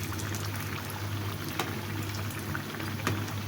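Spicy barushai fries in a pan, a quiet, steady hiss of hot oil with occasional faint pops and crackles throughout and no talking.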